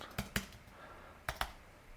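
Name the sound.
typing on a computer keyboard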